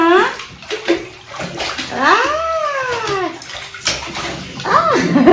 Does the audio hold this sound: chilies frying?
no